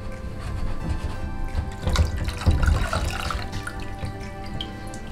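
Water pours and trickles steadily through a strainer into a sink, draining from cheese curds, splashing a little louder midway, then settling into a constant drain.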